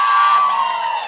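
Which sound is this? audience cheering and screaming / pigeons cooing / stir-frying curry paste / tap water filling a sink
audience cheering and screaming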